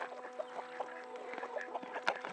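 Chickens cluck softly and intermittently while pecking at a snack of black soldier fly larvae, a cluster of short, close, chattering calls with one sharper squawk near the end.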